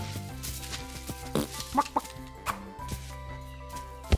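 A cartoonish chicken in a first-person handyman game clucks in a few short bursts around the middle, set against busy game music and sound effects, all fairly quiet.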